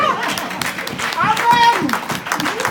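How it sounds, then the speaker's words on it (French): A church congregation at a French-language evangelistic service claps and applauds for Jesus, with rhythmic hand claps beneath singing or raised voices. "Donnez un applaudissement à Jésus."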